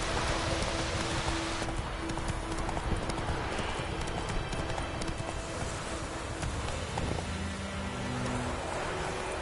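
Horse hooves clip-clop steadily in a PS4 video game, a dense continuous patter of close footfalls over a noisy background.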